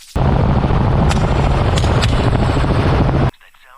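Steady loud helicopter rotor and engine roar during an aerial hog hunt, with a few sharp gunshot cracks cutting through before the noise abruptly cuts out.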